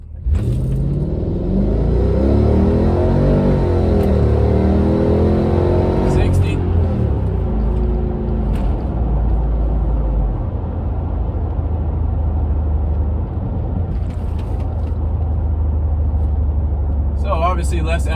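Two Mercedes-Benz AMG models, a six-speed C55 AMG and an ML55 AMG, accelerate hard from a standstill to 60, engine roaring loud and close as it climbs through rising revs with gear-change breaks, then settles into a steady rumble.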